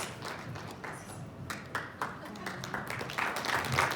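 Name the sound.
audience applause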